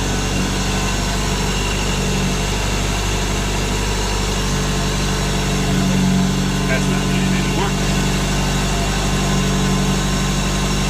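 An Infiniti G20 engine starts and settles into a steady, loud idle with a low droning rumble and vibration throughout, while people talk briefly nearby.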